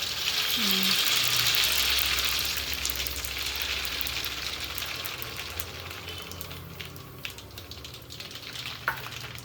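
Fenugreek and mustard seeds fry in hot oil, giving a loud, continuous crackling sizzle that slowly eases, with a few stirring clinks and faint background sounds.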